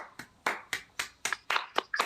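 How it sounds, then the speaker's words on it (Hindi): Slow, evenly spaced claps, about eight sharp hand strikes in two seconds, close and fairly loud with no talk, as an audience is asked to welcome Dr. G Lal onto the stage. "तो आप सबकी जोरदार तालियां"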